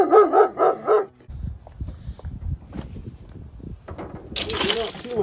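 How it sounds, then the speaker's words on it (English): A dog barks several times in quick succession, close and loud, followed by footsteps, scuffling and breaking sounds as people speak over the commotion. "No. Dog."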